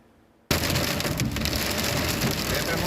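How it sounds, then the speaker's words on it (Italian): Heavy rain and hail pound down in the Bassa Padovana area of Italy, bursting in suddenly after a quiet moment and then holding as a dense, loud, continuous clatter. "Pioggia forte, grandine e abbassamento delle temperature nella prima parte della giornata di oggi nella bassa padovana"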